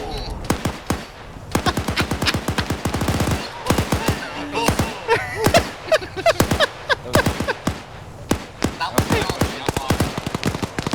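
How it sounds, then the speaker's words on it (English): PKM machine gun fire from an armed Humvee in a multiplayer military shooter game, loud rapid bursts of automatic gunfire in repeated strings with short gaps, close and dominant, with speech mixed in. "Oh, look, we have the armed PKM Humvee."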